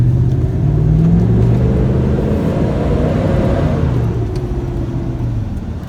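A 2004 GMC Sierra truck with a lifted, leveled front end and a cold air intake drives along with a steady, loud low engine rumble and road noise that eases slightly toward the end.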